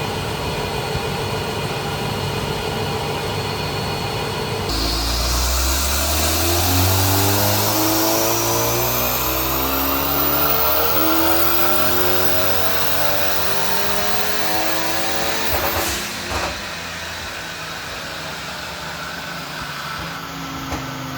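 A 2024 Hyundai i30N front-drive hatch with bolt-on upgrades runs up on a dyno, its engine note climbing steadily in a long loud pull with rising harmonics, then a sharp burst near the end before it settles back to a high idle.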